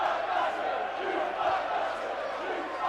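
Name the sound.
rugby league crowd cheering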